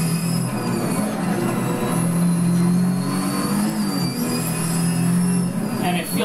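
Porsche 917K race car engine in the Assetto Corsa racing game, a loud, steady, buzzing engine drone that holds a high pitch and shifts slightly as the revs change, with no voices.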